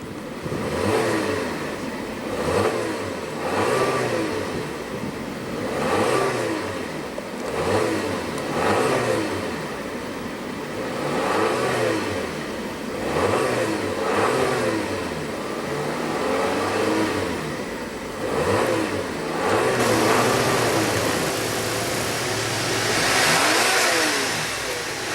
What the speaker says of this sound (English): let's go ahead and see what kind of engine note she makes